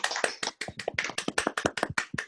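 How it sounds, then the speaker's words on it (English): A round of applause for business speaker Sarah Allison at a video series event: brisk, close, distinct hand claps from a small group, steady and loud throughout the couple of seconds with no talking. "Can we give her a round of applause,"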